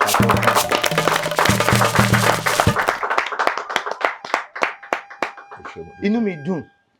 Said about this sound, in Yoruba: ẹ bá ń pàtẹ́wọ́ fún bàbá mi ẹ bá ń pàtẹ́wọ́ fún bàbá